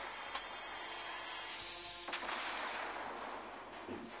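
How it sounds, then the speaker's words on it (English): Warship main guns opening fire in the World of Warships Blitz naval battle game, a dense rumbling barrage with several sharp booming salvos over steady engine and sea noise. "Okay, we're opening fire."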